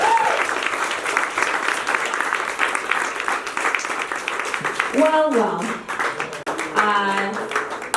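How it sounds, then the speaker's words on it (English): A big round of applause from the audience at a poetry anthology launch and open mic, dense clapping for several seconds that thins out as a voice speaks briefly near the end. "So a big round of applause again,"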